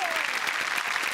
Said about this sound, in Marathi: मधुगंधा कुलकर्णी यांच्यासाठी जोरदार टाळ्या.